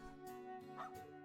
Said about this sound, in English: That's one hard-working dog.